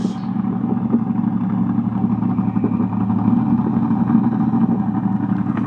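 A 1965 Ford Mustang GT350 V8 with a manual gearbox and a heavy cam idles close by, a steady loud lumpy rumble with a loping rhythm throughout, no talk.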